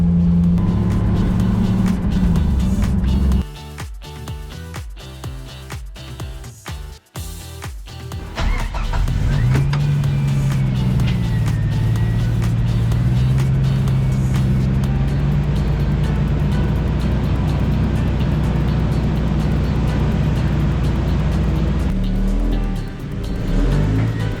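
A Jeep Wrangler on the move, with a steady engine and road drone heard close from inside, holding a fairly even level throughout with a brief dip partway through and no talking.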